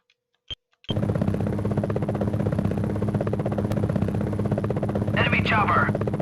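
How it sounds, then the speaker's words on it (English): A helicopter rotor in the Gunship video game starts abruptly after a couple of short clicks, then holds as a loud steady chopping drone with a buzzing hum to the end, with a brief warbling tone near the close. "Enemy chopper."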